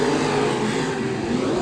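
Race cars roar through a heat race at Bakersfield Speedway, a steady loud engine drone at high revs filling the clip with no break, close by and continuous.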